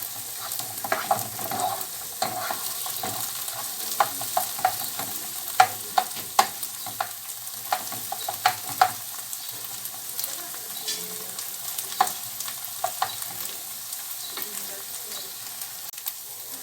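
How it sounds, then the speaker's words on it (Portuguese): Garlic sizzles softly in a frying pan while browning for a caprese risotto, a continuous quiet frying hiss broken by scattered clicks and scrapes of stirring, with no talk. "E deixa dar só uma douradinha no alho para não queimar, certo?"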